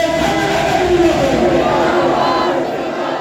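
A crowd at a weekly Khatm-e-Nabuwat religious conference chants slogans in unison through a sound system, a loud, sustained roar of massed voices filling the whole stretch and easing slightly near the end.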